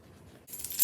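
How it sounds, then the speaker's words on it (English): Keys jangle as they are dropped into the front slip pocket of a pink faux fur Juicy Couture bag, a short bright metallic rattle rising at the end, close and alone. "and my keys"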